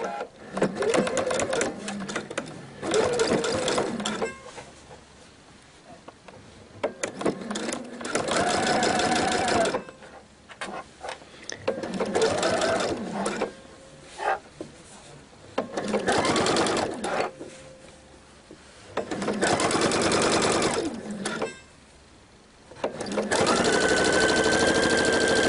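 Sewing machine stitching double-sided jacket fabric in repeated runs of several seconds each, steady and close, with quiet pauses between runs where a voice talks briefly.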